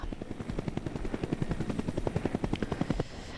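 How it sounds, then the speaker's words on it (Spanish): A firefighting helicopter used for water drops and surveillance thumps with a fast, regular rotor chop, moderately distant and steady for a few seconds before cutting off. "El helicóptero de momento va a seguir operativo en la modalidad de descarga de agua y vigilancia."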